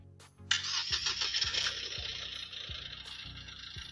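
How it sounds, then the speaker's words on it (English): A 2007 Mercedes engine cranks briefly and catches, then settles into a steady idle with a regular low pulsing rhythm, heard close and alone. "so now they want us to start the engine"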